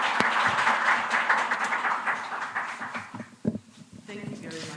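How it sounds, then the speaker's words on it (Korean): An audience at a global health forum applauds to welcome a speaker, with dense, steady clapping filling the room for about three seconds before thinning out into scattered claps and room noise. "큰 박수와 함께 자기로 모시겠습니다."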